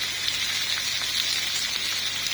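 Strips of chicken breast fry with onions in a pan, giving a steady, soft, close hiss and crackle with no talk.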